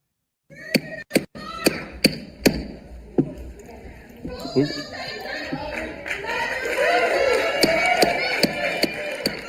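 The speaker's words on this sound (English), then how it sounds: "People are clapping though." Scattered sharp claps ring out in a Senate hearing room, a few isolated hand claps at first, then a denser patch of clapping and crowd murmur building toward the end.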